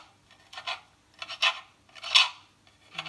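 A knife slices food finely on a cutting board in a kitchen, four short rasping strokes at a steady rhythm, close and fairly quiet with silence between cuts.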